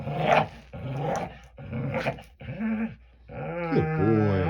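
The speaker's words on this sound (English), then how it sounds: "That's my dog." A dog named Mandinka growls and grumbles in a run of close, throaty bursts, ending in a longer whining, rising-and-falling vocalization, with no talk over it.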